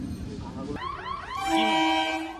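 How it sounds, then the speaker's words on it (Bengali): A train draws near a rail crossing and sounds a loud, wavering horn that swells and holds toward the end, following a moment of background voices. "ট্রেন আসছে এক্ষুনি আসবে"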